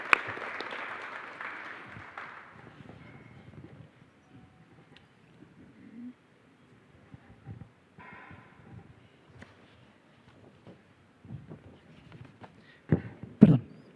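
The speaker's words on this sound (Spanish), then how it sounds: "Dejé a las damas al último para darles un fuerte aplauso más" Applause for the speakers at a panel on creators and creative industries: a moderate burst of clapping fades over the first few seconds, followed by quiet room noise, shuffling and a few louder knocks near the end.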